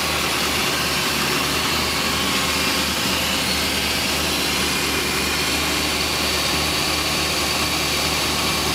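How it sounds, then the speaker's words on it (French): The V8 engine of a 1965 Ford Mustang convertible idles with a smooth, even rumble, loud and steady throughout with no other sounds. "Un moteur qui tourne très bien, régulier, doux"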